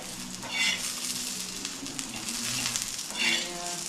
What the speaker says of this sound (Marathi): मिरच्या भाजत आले